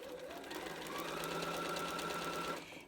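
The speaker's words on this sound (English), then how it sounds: "So I'm going to start sewing." Sewing machine stitching fabric with a quarter-inch foot while insetting quarter-circle curves. A quiet, steady whirring hum of stitching runs for about two and a half seconds, then stops.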